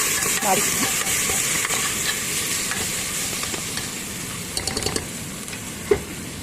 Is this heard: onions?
yes